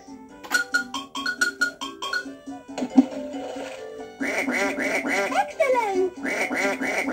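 Ducks quacking in a Dora game on the V.Smile console, a quick run of bright repeated quacks, a pause with brief game tones, then a denser, louder burst of quacking.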